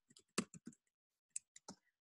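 Keys are typed on an iPhone keyboard app, a few soft, sharp clicks in two quick bursts separated by a short pause, close and quiet with no talk.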